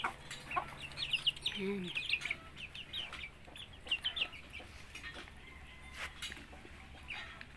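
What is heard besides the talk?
native hen and hatched Rhode Island chicks clucking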